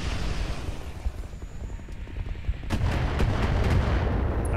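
Mech combat in the Roguetech game as guided ammo weapons fire: a dense rumbling bed of battle noise, then a rapid cluster of sharp launches and booms in the second half.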